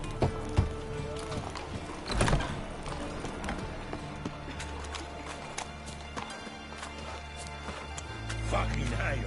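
A horse in The Witcher 3 clip-clops with steady hoofbeats at a walking pace, fairly close, while characters talk over the game's ambient sound.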